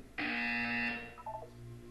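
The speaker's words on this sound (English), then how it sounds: "You will hear a buzzer. When you hear the buzzer, look up at the ceiling." Buzzer in the video game Portal 2, a single loud, harsh electronic buzz lasting under a second, followed by a short fading tonal chime over a quiet background hum.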